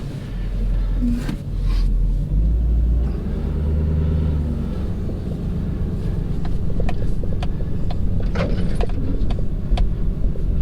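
A single-axle dump truck engine rumbles steadily and loudly while driving, a deep continuous drone with slight surges and rattles over the whole stretch, heard alone without talking.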